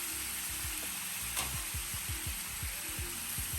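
Pork chops in marinade sizzle on a Blackstone griddle, a steady close frying hiss with short scraping strokes of a spatula repeating through the sound and no talk.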